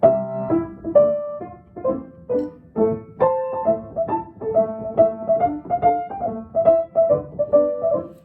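Lively, bouncy piano tarantella in a quick compound meter, with detached chords and a skipping, dance-like rhythm, played alone without voices.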